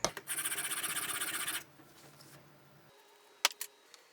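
Hand plane blade stroked back and forth on a coarse sharpening stone, a brief rhythmic raspy scraping burst of about ten quick strokes, then quiet with a few faint clicks.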